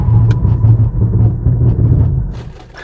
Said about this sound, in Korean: 시속 100km에서 제동 한번 해보겠습니다